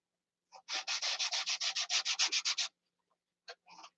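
A balsa model aircraft wing hand-sanded with a strip of sandpaper: a quick, even run of about fifteen close, raspy strokes, a pause, then a few more short rubs.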